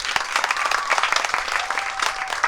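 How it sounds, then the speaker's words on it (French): An audience at a Cameroonian fashion designers' event applauds a performer, a lively burst of many hands clapping at moderate volume throughout. "que je vous demande d'applaudir s'il vous plaît."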